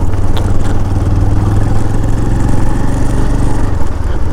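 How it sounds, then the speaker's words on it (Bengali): A motorcycle rides along a forest track on a bike trip toward a Jharkhand village, its engine droning close and loud in a steady low hum with rattling clatter, no voices. "জঙ্গলের মধ্যে দিয়ে আমাদের এই বাইক চালিয়ে যাওয়া"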